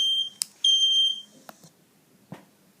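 Shrill, high-pitched beeps from a ringing home smoke or fire alarm, two pulses close together, followed by a few faint clicks and knocks.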